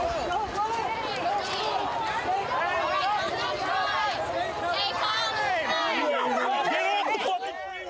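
A large crowd of about a hundred protesters moves along a highway, a dense murmur of many voices with overlapping shouts and footsteps, steady and close throughout.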